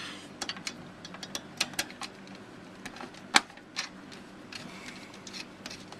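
Screwdriver driving four screws into a motherboard, giving a run of quiet, dry clicks and ratcheting ticks at an uneven rhythm, close and fairly faint, with one sharper knock partway through.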